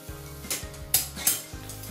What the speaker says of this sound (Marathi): आता मी हे खोबरं घालते.